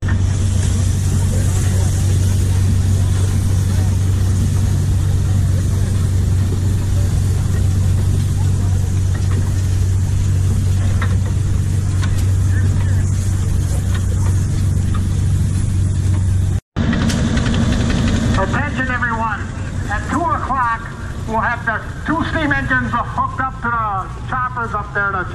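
A 160 horsepower engine dating from 1965 runs outdoors at a steam engine show with a steady, heavy low drone; after a brief cut the engine noise continues under people talking nearby.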